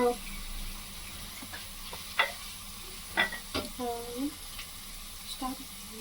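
Tempering for village-style tomato dal sizzling in a pan with garlic, dried red chillies and curry leaves, a soft steady frying hiss broken by a few sharp crackles and stirring clatters, with a voice speaking at times.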